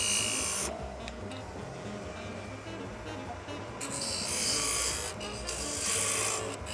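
A 1/16 inch parting tool cuts into a turned wooden lidded box spinning on a lathe, giving a continuous rasping scrape over the low motor hum, with brighter, harsher bursts of cutting in the second half.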